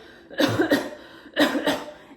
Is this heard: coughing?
yes